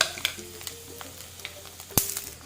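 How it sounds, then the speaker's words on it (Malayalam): Mustard seeds splutter in hot oil for a vadukapuli lemon pickle, giving sharp, irregular pops and crackles over a soft, continuous sizzle, with one louder snap standing out near the end. "കടുക് പൊട്ടി വരുന്നുണ്ട്."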